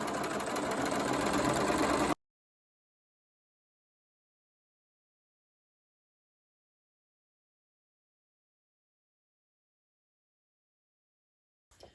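A sewing machine runs steadily for about two seconds stitching a dress facing in place, then stops and leaves a long stretch of silence before a brief faint clatter near the end.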